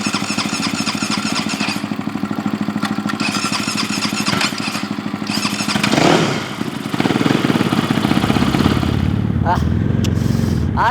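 A dirt bike engine running up close with a steady, pulsing mid-pitched drone and clatter that briefly surges and dips midway, while people talk over it.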